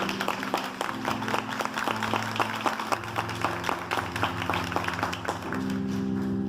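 A church congregation claps in a steady, rhythmic beat during a sermon, each sharp hit evenly spaced and fairly close, over sustained keyboard tones that carry on after the clapping stops.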